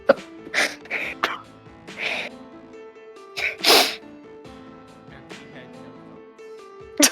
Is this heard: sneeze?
yes